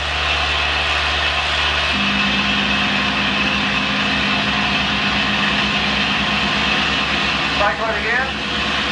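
A P-51 Mustang piston engine runs up to 2300 RPM during a preflight check while the propeller is cycled, giving a loud, steady roar that shifts pitch partway through, with a brief change near the end.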